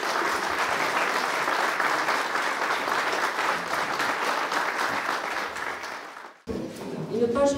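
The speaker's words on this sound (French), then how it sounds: "On peut l'applaudir, je pense." Applause at a town hall retirement ceremony for a long-serving mairie secretary in Sainte Marie de Gosse, steady crowd clapping for about six seconds that fades, then a brief murmur and scattered claps rising again with faint voices.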